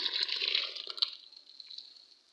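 Plain water poured into a container holding a lime-and-residue mixture during a homemade acid preparation, a steady gushing splash that tapers off over about two seconds, fairly quiet with no talking.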